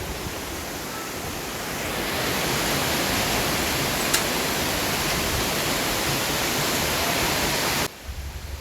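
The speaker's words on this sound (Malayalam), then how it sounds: "താഴെ നമ്മുടെ വെള്ളച്ചാട്ടത്തിൽ നിന്ന് വെള്ളം ഇങ്ങനെ താഴത്തു കൂടെ വരുന്നുണ്ട്." Water from Thusharagiri waterfall rushing down over rocks, a steady loud broadband roar that fills the whole stretch without pause before dropping off abruptly near the end, with no voices.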